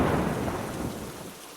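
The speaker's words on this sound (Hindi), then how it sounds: "तूफान और तेज हो गया" Deep rolling thunder over heavy rain, used as a storm effect in a horror story, rumbling loudly at first and then slowly fading.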